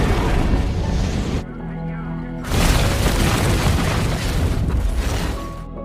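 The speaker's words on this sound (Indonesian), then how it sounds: "sebelum ledakan besar terjadi" A house blows up in a big film explosion, a loud sustained roaring blast that breaks off briefly, then surges back in a dense, rumbling wall of noise for several seconds.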